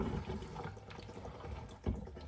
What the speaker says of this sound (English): we're going to fill this bottle back up and with fresh water and pour that water in